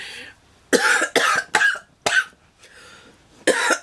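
A person coughs five times in loud, close, harsh bursts, with a short rough breath between some of them and a final cough after a pause.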